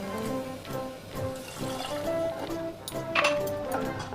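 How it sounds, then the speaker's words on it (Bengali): Two mugs of water pour into a cooking pot of khichuri, a faint, steady splashing trickle with light clinks and drips. "2 মগ জল দিয়ে দিলাম।"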